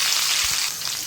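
Ginger and green chillies hit hot coconut oil in a pan, already crackling with mustard seeds, for a garlic pickle, producing a loud, steady, close-up hiss of sizzling with no voices.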